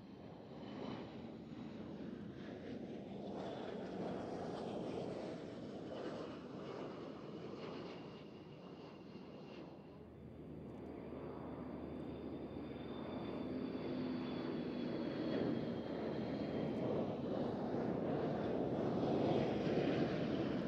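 A C-130 propeller transport aircraft passes overhead at an airshow, a steady broad engine roar with wind buffeting that grows louder toward the end, with no voices.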